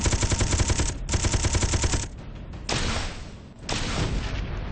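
Rapid automatic gunfire from a ship in the video game Space Engineers rattles out in loud, dense bursts, with short pauses between them and a booming roar underneath.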